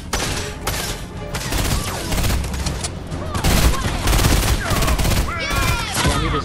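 Burst-fire weapons in the video game Fortnite, rapid clustered volleys of gunshots repeating throughout, loud and close, with brief voices between the bursts.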